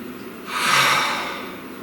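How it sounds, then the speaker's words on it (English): A single deep breath drawn in and released, a soft airy rush that swells and fades over about a second, close and alone with no talk. "Please take a nice deep breath."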